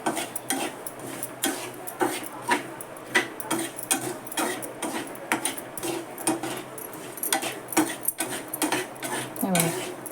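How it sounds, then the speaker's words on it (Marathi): Peanuts roasting with salt in a pan over high heat, stirred continuously so the nuts and salt rattle and scrape against the metal in a busy, uneven clatter, close by. "गॅस मोठा करून पण एकसारखं हलवत राहायचं"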